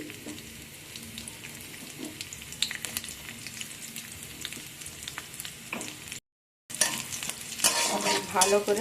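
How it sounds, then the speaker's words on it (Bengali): Chopped garlic fries in oil with nigella seeds, a continuous close sizzle with stirring scrapes and clinks, broken by a brief silence before the frying returns louder; a voice says a few words. "ভাজা করে নেব রসুনগুলোকে লাল লাল করে ভেজে নিয়েছি"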